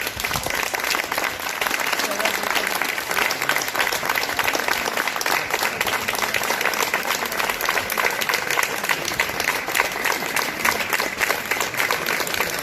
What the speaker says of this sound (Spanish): dedicarle un aplauso de recuerdo y de conmemoración